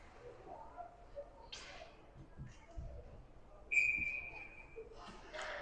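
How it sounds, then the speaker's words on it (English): A referee's whistle shrills once, briefly and at a distance, over faint arena noise and crowd murmur at a junior ice hockey game. "Ref's going to blow the whistle."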